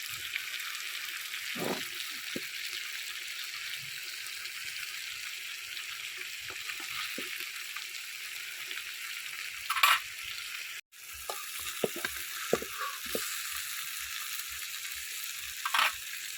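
Pieces of large hilsa fish frying lightly in a kadai, a constant steady sizzle with occasional utensil clinks and scrapes, fairly close and alone.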